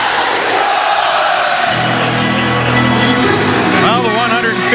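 A sellout hockey crowd at the Joe in Detroit cheers and sings during a Red Wings home game against Los Angeles, a dense, continuous roar with chanting voices rising near the end, under a commentator's talk.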